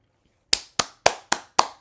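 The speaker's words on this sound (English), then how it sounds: "Round of applause." Five sharp, evenly spaced hand claps ring out close by after a brief silence, a short solo round of applause.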